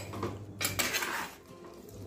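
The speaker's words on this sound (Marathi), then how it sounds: "याप्रमाणे पूर्ण आपण पीसेसला हा मसाला मिक्स करून घेऊया।" Spice masala being worked into mutton pieces in a metal dish for Mughlai mutton Akbari, with close clinks and scrapes of a utensil against the vessel in short bursts, no voices.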